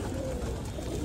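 Pigeons of the Pakistani Kale Katle and Patet kinds give steady low cooing that fills the whole moment, close and continuous, with no speech.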